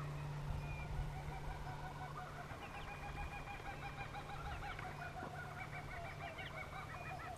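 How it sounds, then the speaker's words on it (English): Kookaburras call from the riverside at Mannum, South Australia, their rolling, chuckling cackles starting a few seconds in and carrying on over a steady outdoor rumble. "well, it was good timing by the kookaburras, so you know they're out there."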